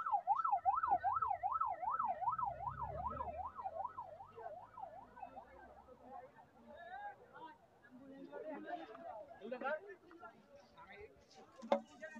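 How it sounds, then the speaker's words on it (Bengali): An ambulance siren wails in a fast, regular up-and-down pattern, loud at first and then fading as it passes during a street blockade protest, with crowd chatter and voices continuing underneath. "অ্যাম্বুলেন্সকে আমার পার করে দিছে আর কি।"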